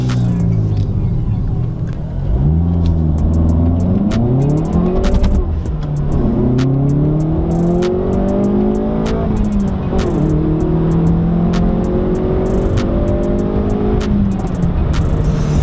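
A Hyundai i30 N Performance engine revs hard through upshifts and throttle blips, its tone climbing, dropping and climbing again, loud and close. Sharp exhaust cracks and pops punctuate each change, and a voice talks faintly beneath.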